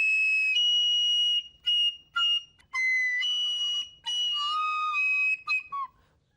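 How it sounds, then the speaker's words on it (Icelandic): A flute plays a series of clear, shrill held notes and short bursts, loud and close, with brief gaps between phrases. "til dæmis þessa flautu hérna"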